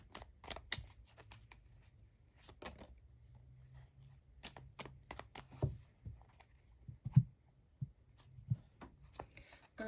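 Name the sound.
tarot cards being shuffled and drawn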